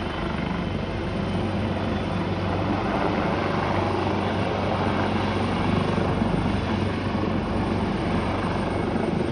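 A loud helicopter drones continuously with a thick, rumbling rotor wash that stays close and steady throughout, at Makwanpur Gadhi, Nepal.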